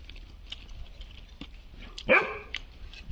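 A single dog bark breaks out sharply and close by in an otherwise quiet room, standing alone after a faint, low background hum.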